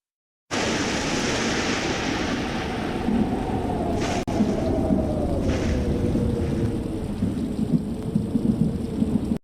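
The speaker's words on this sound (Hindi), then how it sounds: "एक रात वहां जोरों की बारिश हो रही थी" Heavy rain pours in a constant dense hiss while thunder rumbles low beneath it, with a sharp crack about midway, the storm loud and continuous throughout.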